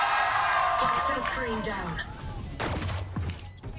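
Rapid gunfire from the video game Valorant during a Sentinels vs G2 esports match, sharp bursts under an excited caster's voice and crowd noise.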